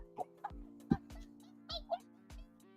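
Woman imitating a chicken with her voice, giving several short, abrupt clucking bursts at irregular intervals over a low steady background hum.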